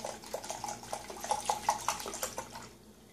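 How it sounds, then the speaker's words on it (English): Plant milk poured into a measuring cup already holding flax meal, a soft trickling, splashing liquid stream running steadily for a few seconds before tapering off at the end. "So I just poured about a cup of it into the measuring cup with the flax meal."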